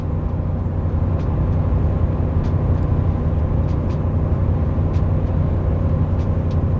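Chevy 1500 pickup with the 6.2L V8, pulling hard under load while towing a trailer, a loud continuous engine drone with road rumble that holds steady throughout, broken only by a few faint ticks, and nobody talking.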